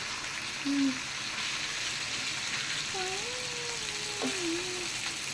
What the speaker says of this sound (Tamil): இப்போ நம்ம எண்ணெய் மேலே இப்போ நம்ம மீனை வச்சுக்கிருக்கோம்